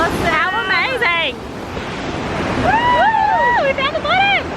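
Steady rushing water from a waterfall in a Maui jungle, heard as broadband roar mixed with wind on the microphone, while excited voices talk and exclaim over it.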